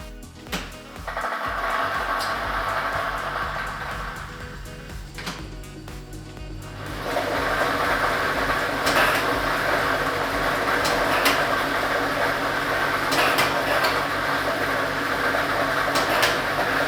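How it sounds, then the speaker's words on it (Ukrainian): A state lottery draw machine, set with ball set number 1, runs with a steady broadband whir and rattle of tumbling balls that starts after a brief lull and grows louder, continuous and close. "І ми вмикаємо лототрон"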